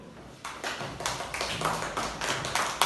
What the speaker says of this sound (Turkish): Alkışlayalım. Sonunda daha güçlü alkışlayalım.